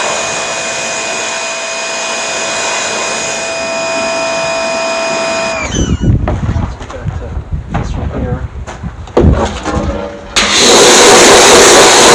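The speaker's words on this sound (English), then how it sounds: "so I got the stuff out, we might as well power wash this." Gasoline pressure washer engine starting up and running loud and close, a rough throbbing roar with uneven surges, taking over from a steady tonal whine heard before it, during farm clean-up of Cub Cadet and John Deere tractors.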